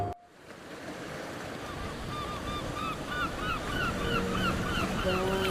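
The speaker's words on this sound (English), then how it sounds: "Seagulls are never a good sign." Seagulls cry repeatedly over steady crashing ocean surf in a Dark Pictures game trailer, the calls mid-distance and overlapping above the constant wash of waves.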